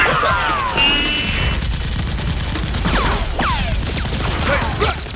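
Silver Flash Nerf toy guns fire in a mock fight, giving a string of electronic zapping sweeps and whistling chirps with blasting noise, fairly loud and continuous.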